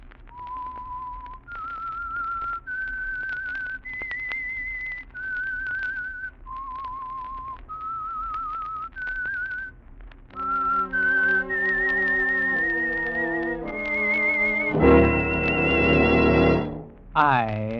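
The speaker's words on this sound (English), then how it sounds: "That whistle is your signal for the Signal Oil Program" A lone whistler carries the theme tune of The Whistler radio drama, a slow eerie melody of sustained notes that is then taken up by a fuller orchestral passage swelling to a close.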